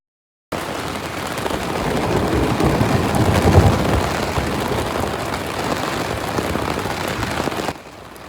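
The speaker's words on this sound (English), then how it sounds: "it rained that night. All night. Buckets of rain." Heavy rain at night in Branson, Missouri, after a tornado warning: a dense, loud, continuous downpour that starts abruptly, swells briefly near the middle, then cuts off at the end.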